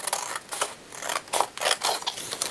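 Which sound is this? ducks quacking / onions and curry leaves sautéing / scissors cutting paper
scissors cutting paper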